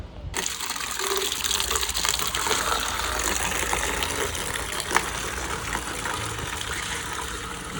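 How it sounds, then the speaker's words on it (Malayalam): Water gushes steadily into a small bucket, a continuous rushing fill running the whole time with one brief clink partway through. "കൊച്ചു ബക്കറ്റ് നിറച്ച് വെള്ളം എടുക്കുകയാണ്"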